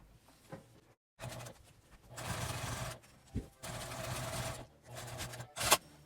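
A domestic sewing machine topstitches along the edge of a fabric zipper pouch, running in several sustained bursts of rapid, whirring stitching separated by short pauses, close and clear with no talk.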